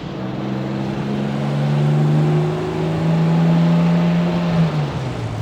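A 1959 Jaguar XK150 with a Borg-Warner transmission swap accelerates steadily, its engine drone rising and holding in a smooth, continuous tone with no talk over it.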